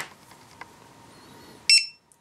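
A battery voltage alarm sounds as a 6S battery is connected, giving one short, sharp electronic beep after faint background hum.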